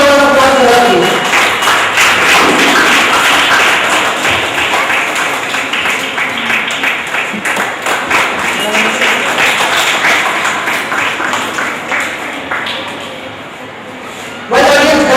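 A small audience at a school gathering in southern India gives a round of applause, a dense patter of hands that thins toward the end and stops abruptly.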